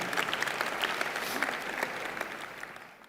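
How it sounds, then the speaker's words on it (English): An audience applauds athlete Sami during a sports ambassadors presentation in South Africa, a brief, even patter of many hands clapping at moderate distance that tapers off at the close. "Let's give him a big round of applause."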